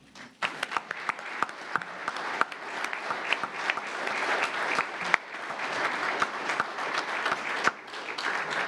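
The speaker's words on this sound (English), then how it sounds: "You may applaud." Applause at a city commission meeting in Tallahassee: a room full of people claps steadily for several seconds, dense and sustained with sharp individual claps standing out, no talking over it.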